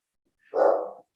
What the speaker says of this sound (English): my dog has chosen this perfect time to do some barking